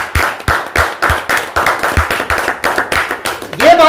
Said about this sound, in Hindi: एक बार तालियां सभी के लिए।